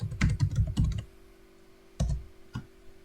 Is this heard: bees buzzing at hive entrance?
no